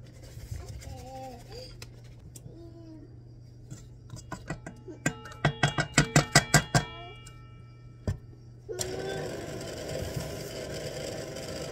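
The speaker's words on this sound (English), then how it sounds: "we're going to whip the butter until it's smooth" An electric mixer whips butter with powdered sugar for churro cookies: a steady whirring motor hum kicks in abruptly near the end and runs on, after a stretch of short tonal chirps and a quick series of sharp clicks.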